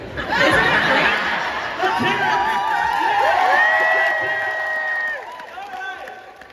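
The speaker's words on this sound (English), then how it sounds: "We're applauding that." A convention panel audience in Manchester reacts with cheering, laughter and scattered clapping, a loud crowd swell that carries through most of the moment before easing, with voices mixed in.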